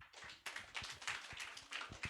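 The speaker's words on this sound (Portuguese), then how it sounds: "Aplausos para ela." Audience applause at a school children's storytelling event: a burst of clapping from a group of listeners, steady and fairly near, lasting about two seconds with no talk over it.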